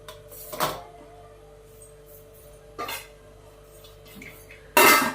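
A metal idli stand is set into a steamer pot in a home kitchen, giving a few separate clinks and knocks of metal against metal, the last one louder and sharper, over a quiet room hum.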